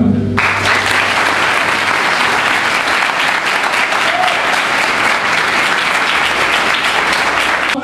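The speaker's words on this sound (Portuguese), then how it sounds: "Vamos aplaudir o Senhor?" A church congregation applauds together in steady, dense clapping that fills the whole stretch, loud and continuous from start to finish, with no voices rising above it.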